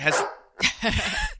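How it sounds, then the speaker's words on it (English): A pet dog barks in short, close bursts at the start, then again under people talking over it indoors. "Sorry, that's our dog."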